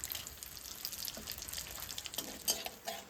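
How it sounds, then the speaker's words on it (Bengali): Dried red chilies and black cumin seeds crackle and sizzle in hot oil heated after frying hilsa fish, a soft, steady hiss with scattered sharper pops, close by and with no talking. "এই তেলের মধ্যেই তেল দিয়ে দেবো তিনটে শুকনো লঙ্কা আর কালো জিরা ফোড়ন দেবো"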